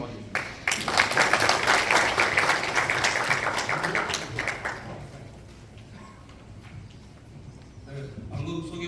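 A forum audience at the Open Busan Urban Architecture Forum claps to welcome Professor Lee Seok-hwan: loud, full applause for about five seconds, then it thins and fades into a quiet room with faint voices near the end.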